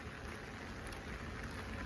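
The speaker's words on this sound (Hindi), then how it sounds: "बारिश आ रही है भाई बड़ी तगड़ी" Heavy rain pours down at a train station at night: a steady, dense hiss with no gaps, fairly soft and even throughout, with no voices.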